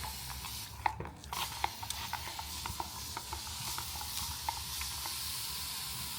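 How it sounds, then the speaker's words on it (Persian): A pressurised spray bottle mists water onto house plants in a home, a continuous soft hiss broken by faint clicks and small taps at an irregular pace, with no talking. "برای همین گیاه ها این بهتره از این اسپری استفاده بکنیم"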